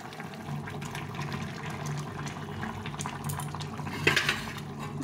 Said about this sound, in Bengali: এখন আমি এই মাছটা দিয়ে দেব।